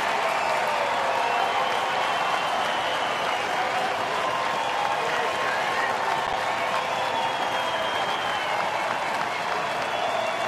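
A crowd of almost 40,000 at a baseball stadium applauds for a night game, a dense, steady roar of clapping and crowd noise that fills the whole stretch without letup.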